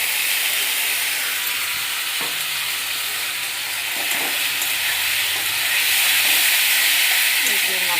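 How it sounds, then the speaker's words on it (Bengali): A cumin, ginger and chilli paste fries hard in a pan for a coriander-leaf pabda fish curry, giving a loud, steady sizzle and hiss with occasional stirring scrapes throughout. "এই যে মশলাটা ভালো করে কষিয়ে নিচ্ছি এখন।"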